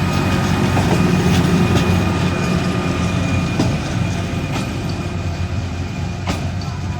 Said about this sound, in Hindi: तो दोस्तों ML935 बहुत ही खूबसूरत ट्रेन।